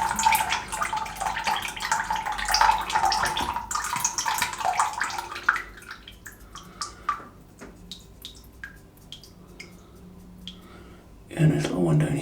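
Tap water runs loudly to wet a styptic during a wet shave, a steady splashing stream that stops midway, leaving sparse drips and small clicks before a brief gush returns; someone speaks over it.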